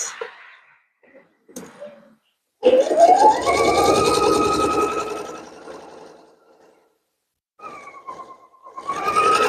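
A sewing machine stitches the seam of a fabric gift bag in a loud, close whir. It runs for about three seconds, stops, then starts again in shorter bursts.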